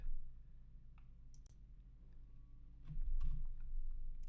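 Several sharp computer mouse clicks, spaced irregularly and quiet, set against a low background hum with no talking.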